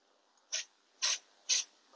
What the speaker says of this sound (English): So again, I'm just gonna spray along.